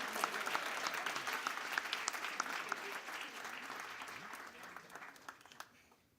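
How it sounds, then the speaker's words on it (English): A crowd claps steadily, loud at first and gradually fading away over several seconds. "give your hand a round of applause for these people"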